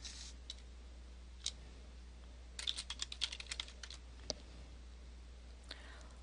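Quiet computer keyboard typing while editing a form field's text property, with scattered single key clicks and a brief rapid burst in the middle, heard alone over a low steady hum.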